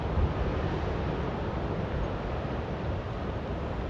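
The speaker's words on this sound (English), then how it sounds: "That's the sound of a very dangerous wildfire." A large, dangerous wildfire burning near Cohasset outside Chico, heard as a steady, broad rushing roar like heavy wind, constant and fairly faint throughout, with no voices.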